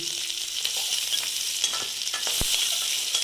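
Boiled potatoes frying in hot oil for aloo dum, a steady close sizzle with soft scraping stirs and one sharp knock of a utensil partway through.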